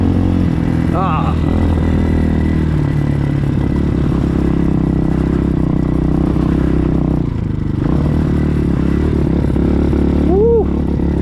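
A Hawk 250 enduro motorcycle engine drones steadily and loudly close by as it rides through swampy, wet ground, with clattering and scraping under the constant engine note.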